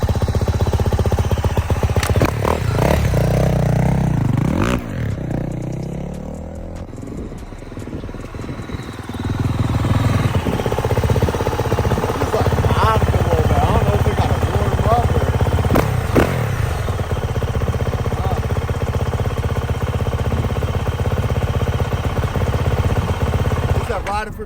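A 2023 Yamaha YZ450F dirt bike is ridden nearby, its engine loud and steady with revving surges and a brief dip in the middle, while a voice talks faintly underneath.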